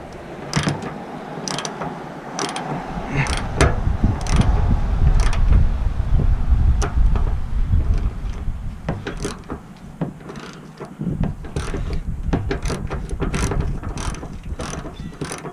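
A ratchet wrench loosens a bolt holding the headlight fixture on a 2008 Pontiac G6, a long run of rapid metallic clicks with grinding mechanical rattles between pauses, close and fairly loud.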